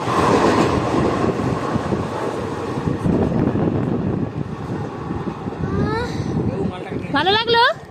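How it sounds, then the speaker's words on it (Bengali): A train rolls into a station with a loud, heavy rumble and wind buffeting the microphone. Rising voices are heard near the end as it draws close. "ট্রেন আসতিছে"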